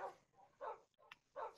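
A dog barks three times in a short rhythmic series, fairly faint and moderately close, with a small click between the second and third barks.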